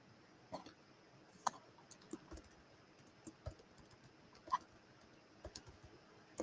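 Soft, scattered keystrokes come from a computer keyboard while a quick email is typed, faint and irregular clicks in a quiet room with no talking.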